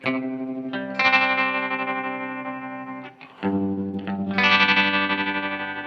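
Sustained electric guitar chords through a Walrus Fundamental Tremolo pedal at high rate and depth, throbbing with a fast, deep pulsing wobble, briefly dipping near the middle before swelling back, played alone without voices.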